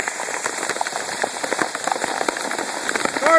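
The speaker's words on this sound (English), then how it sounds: "We're getting just pummeled by hail." Hail pounds a cardboard sheet held overhead beside a new Chevrolet Camaro convertible, a dense, steady rattle of close, sharp impacts with no pauses.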